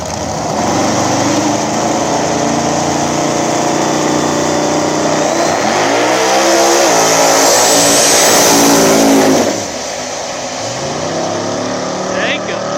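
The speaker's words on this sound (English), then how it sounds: "Nitrous Mustang taking on Jacob, the Turbo Mustang." A nitrous-fed Mustang and a turbocharged Mustang run a small-tire drag race at a strip, loud engines roaring and revving up together, then fading into the distance, while an announcer talks over them throughout.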